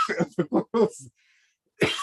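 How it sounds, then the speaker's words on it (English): A single short cough-like burst follows a few quick spoken syllables, then a brief pause before talking resumes. "So I've got a bit of a cough."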